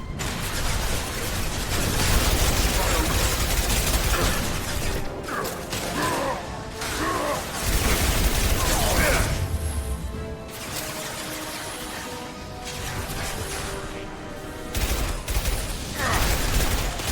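Impact shot gunfire in Mass Effect 2 crackles through a loud firefight: repeated sharp shots and mechanical clatter in bursts, with heavy crashes mixed into a dense, continuous combat bed.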